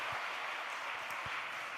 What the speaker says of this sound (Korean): 우리 격려의 박수로 함께 하겠습니다.